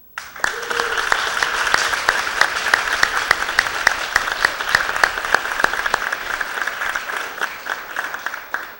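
An audience at an awards breakfast applauds honored staff, crisp individual claps blending into a sustained round of applause that starts abruptly and carries on for nearly nine seconds.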